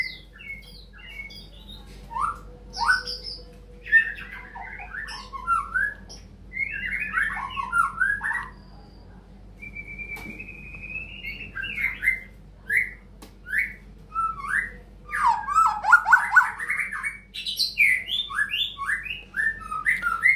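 A white-rumped shama, or murai, held in a cage, sings a long varied song of clear whistles, rapid chirps and harsh squawky phrases in bursts, close and loud, with a long sustained whistle near the middle.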